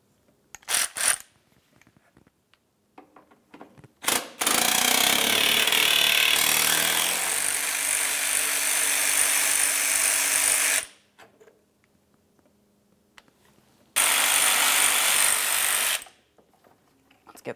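A power tool removes 10mm bolts from a Ford Explorer fan shroud, making two loud sustained whirring bursts with short clicks and handling sounds before and between them, alone without talk.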